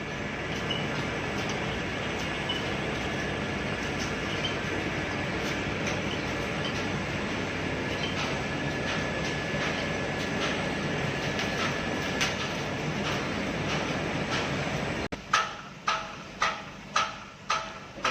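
A roof sheet forming and pressing machine runs with a loud continuous mechanical roar and rattle, then cuts off near the end, leaving a few sharp repeated clanks.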